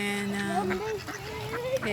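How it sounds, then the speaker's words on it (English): Ducks quack and honk at a promenade pond in Maldon, a few close calls mixed with other waterfowl over a continuous outdoor background. "We got lots of ducks"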